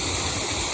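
Water rushes steadily out of a river lock on the Trent as it empties for narrowboats, a loud, continuous broadband roar like a waterfall with no pauses.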